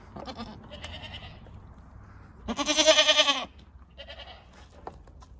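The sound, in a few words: goat bleating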